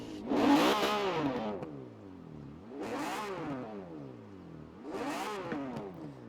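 A Lamborghini Diablo GTR in Forza Horizon 4 revs hard three times, each burst climbing sharply then falling away, loud and close with brief lulls between.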